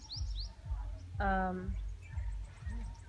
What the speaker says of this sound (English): There are gorgeous birds.